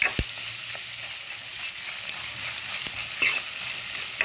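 Green chillies sizzle in hot tempering oil for a simple bhindi fry, a steady close crackle with a few soft scrapes and clicks as the pan is stirred.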